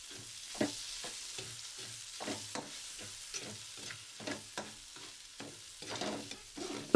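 Onions fry in a pan with a soft, continuous sizzle, broken by repeated scraping and clacking as a utensil stirs them, heard close and fairly quiet with no talk.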